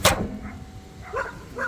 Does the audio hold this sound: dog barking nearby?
yes